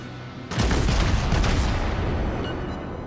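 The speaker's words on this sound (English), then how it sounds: "I'm trying to set him on fire with high explosive shells" High explosive shells fire from a German Nuremberg cruiser's guns in World of Warships: a sudden loud boom after a brief lull, a second blast close behind, then a long rumbling tail that slowly fades.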